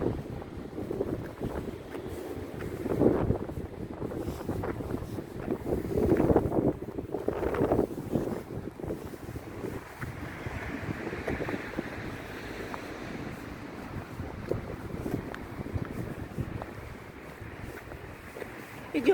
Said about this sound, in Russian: У нас сегодня ветер, прохладно, может быть, даже не слышно будет.